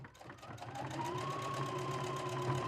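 A free-arm sewing machine stitches a drawstring bag, starting up and settling into a steady, rapid whirring drone with a rising motor tone, close and fairly quiet.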